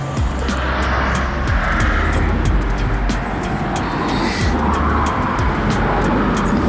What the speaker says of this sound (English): We are going to be driving around Otsu in a Prius.